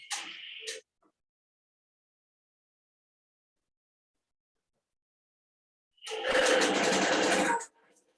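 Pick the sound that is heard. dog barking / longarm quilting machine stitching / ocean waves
longarm quilting machine stitching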